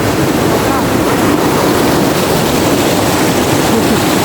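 Wide river with a strong current in Real, Quezon, rushing as a steady, loud broadband wash that fills the whole stretch without a break.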